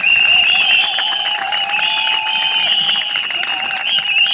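A crowd at a public gathering cheers, shouts and applauds for several seconds, loud and continuous with no pauses.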